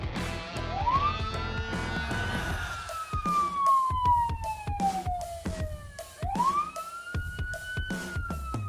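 A police car siren wails while pulling over a driver on the road, recorded from a dashcam; a rising and falling wail sweeps repeatedly over steady road noise and rhythmic thumps, moderately loud.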